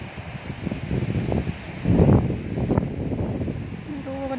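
Strong storm wind blows through a garden where chestnuts grow, a continuous rushing roar with rustling foliage that swells to a louder gust midway, with a faint voice in the background.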